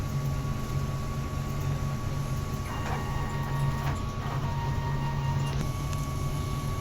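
A DTF printer runs its manual head cleaning cycle, giving a constant low mechanical hum and whine with faint clicks and brief soft mechanical shifts partway through.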